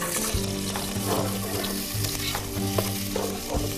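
Onions frying and sizzling in a pan while being stirred, a steady close crackle with scraping strokes and a low background hum, no talk.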